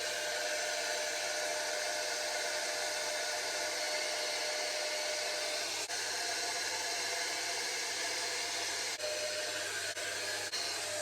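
A Dyson Airwrap dupe hot air round brush blows a steady, loud rushing whir of air, unbroken for the whole stretch with a few faint clicks, close by and without talk.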